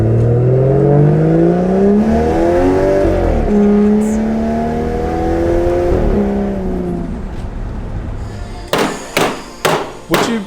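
Honda Civic engine revving hard and aggressively with rising and falling harmonic sweeps like a DSG-style gearbox, loud and close, followed near the end by several sharp, separate bursts.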